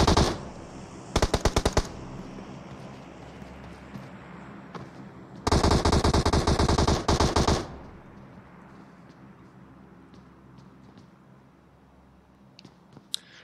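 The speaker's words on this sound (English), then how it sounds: "They're shooting back." Rapid automatic gunfire in a video game scrim match, two loud dense bursts early and mid-clip with a few sharp shots between, then a quieter stretch of low ambient rumble with faint clicks.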